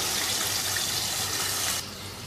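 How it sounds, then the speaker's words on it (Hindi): Steady rush of water pouring into a pot for mutton kofta curry, bright and continuous, easing slightly in level near the end. "अब इसमें शामिल कर देंगे आधी प्याली पानी की।"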